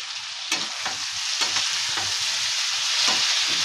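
Aloo dum, a potato curry with peas, cooking in a pan, loud close sizzling under repeated scraping spatula strokes at a steady stirring rhythm, with no talking.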